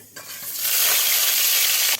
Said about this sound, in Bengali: তেল গরম হয়ে গেছে, এবার সিদ্ধ করে রাখা ডিমগুলো দিয়ে দিবে।